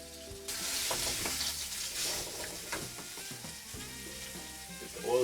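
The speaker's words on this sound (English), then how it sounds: "We're gonna brown these steaks up." Steaks browning in hot oil in a pan, a loud, continuous close sizzle with faint crackles and spatters throughout.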